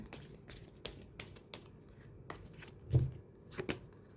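Tarot cards shuffled during a reading, a quick series of soft riffling slaps close by, with a couple of firmer taps near the end.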